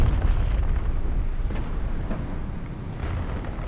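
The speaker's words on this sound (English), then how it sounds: "let me launch some artillery" Artillery explosions from War Thunder Mobile rumble low and heavy, a rolling barrage of booms that starts loud and gradually eases, with a few sharper impacts mixed in and no voices.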